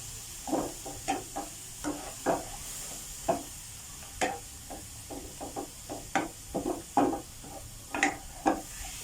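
Bite-sized chicken breast pieces sizzle as they are stir-fried in a hot pan, with repeated scraping and stirring clatters at an irregular rhythm, close and fairly quiet, no voices.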